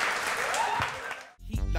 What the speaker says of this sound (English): Give yourselves another one round of applause.